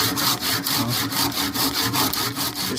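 A hand saw trims a wooden plow handle in steady back-and-forth strokes, about ten rhythmic rasping passes close to the microphone, with no voices.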